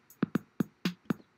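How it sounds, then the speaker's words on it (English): Drum machine pattern A on BandLab's sequencer plays short punchy kick-and-snare-like hits in a steady rhythm, five clean strikes with tight decays, close and alone. "let's start with the drum machine"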